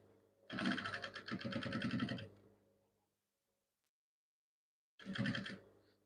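A sewing machine stitching the side seam of a gown, running in a close, rapid mechanical burst of just under two seconds, stopping to silence, then starting again briefly.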